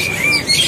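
A jalak kebo myna bird calling at a bird market kiosk, harsh squawking and whistled notes against busy market background noise.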